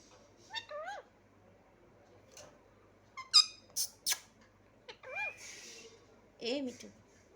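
Pet parrot squawking and chirping in short bursts at close range, a few harmonic calls spread across several seconds with quiet gaps between them, under faint background noise.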